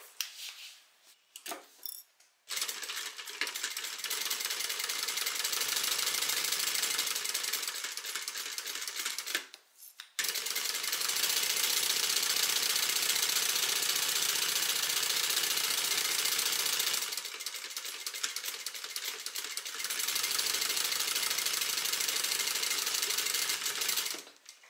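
A sewing machine bastes a back slip pocket in three long runs of rapid, even stitching, separated by brief pauses and a few short bursts at the start, close and clear with no talk.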